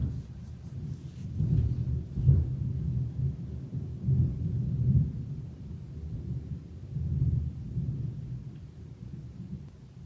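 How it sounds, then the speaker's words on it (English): Low, rolling thunder rumbles faintly in the distance, swelling and fading in several long waves. "it is thundering"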